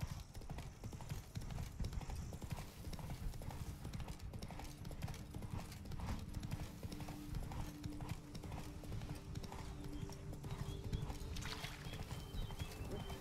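Hooves of the horse Roach clip-clopping in a steady rhythmic gait while riding in the Witcher 3 video game, continuous and fairly close over a low rumbling game ambience.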